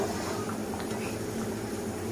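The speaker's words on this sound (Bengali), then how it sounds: "ভালোভাবে তরকারি ফুটে গেছে আর আলুও সেদ্ধ হয়ে গেছে" A pot of lentil-dumpling curry with potatoes bubbles at a steady simmer, giving a continuous, close, fairly even burble with no pauses.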